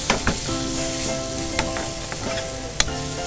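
Prawns fry in a hot pan with a loud, continuous sizzle and crackle, broken by a few sharp spatula clicks, and a steady hum runs underneath.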